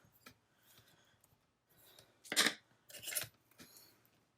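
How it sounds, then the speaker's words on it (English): Scissors cut through a thin acetate sheet, giving two or three short crisp snips, close and moderately loud, over a quiet background. "I'm gonna grab a piece of this little acetate here, and I'm gonna just cut this"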